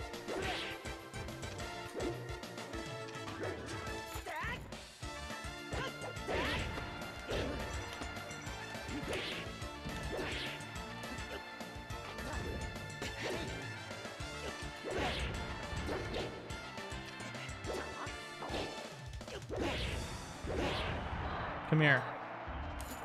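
Side smash attacks land repeatedly in Super Smash Bros. Melee during an event match speedrun, a run of sharp crashing hits and whooshes over loud game music, with people talking now and then.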